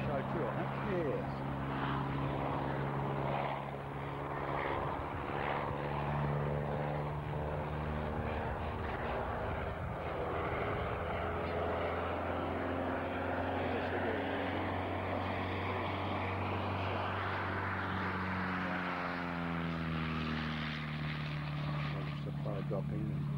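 An agricultural propeller aircraft drones overhead at an anniversary reunion of ag pilots, its engine rising and falling as it passes, with commentators talking over it throughout.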